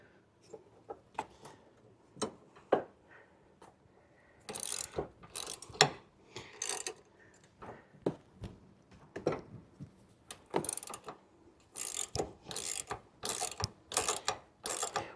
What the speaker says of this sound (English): I'm pulling it all the way forward towards me so that it locks kind of in that little groove and tightening it up